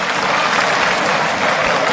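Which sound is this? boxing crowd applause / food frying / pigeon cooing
boxing crowd applause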